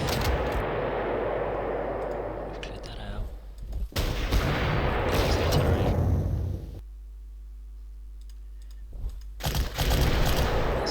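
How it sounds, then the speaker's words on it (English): Artillery fire in the Panzer Corps strategy game during the Oslo battle of the Grand Campaign '39, loud sustained booming bursts of gunfire filling most of the stretch, broken by a short quieter pause with a low hum before another heavy burst. "There's the artillery."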